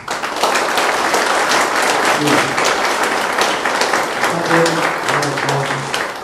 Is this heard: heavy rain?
no